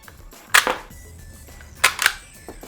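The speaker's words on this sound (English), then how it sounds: "the first shot here is not going to eject anything, but it will fire, and then the next shot will eject." A double-barrel 1911-style Nerf blaster fires and cycles twice, each shot a sharp, close, snappy crack followed by a quick mechanical clack, with a short quiet gap between the two.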